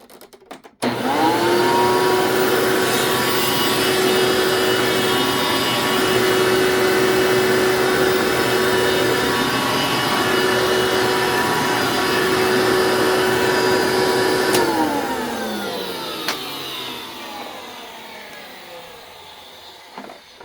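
An old Hoover vacuum cleaner with a worn motor mount starts up and runs rough for about fourteen seconds, a loud, close whining drone with a rattling edge, then powers down and winds away to quiet.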